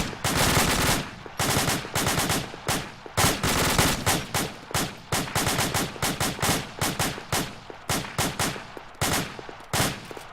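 Rapid bursts of rifle fire from a video game weapon that keeps jamming, loud and close, coming in uneven volleys with short gaps between strings of shots, with no talk over them.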